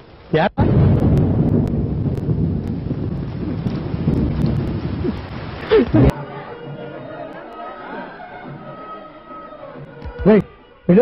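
Heavy rain roars as a dense, steady wash with low rumbles, then fades as voices speak and cry out over the softer downpour.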